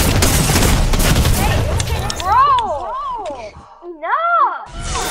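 Shotgun fire in an online shooter video game, a dense rapid burst of blasts up front that gives way to warbling game effects and vocal-like sounds.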